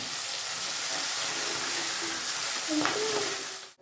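Chopped tomatoes and fresh green fenugreek leaves cook in a pan, giving a steady, close hissing sizzle that continues evenly before a brief clatter at the very end.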